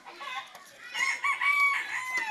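A rooster crows once nearby, a fairly faint, wavering call rising and holding over about two seconds against a quiet backyard with farm fowl around.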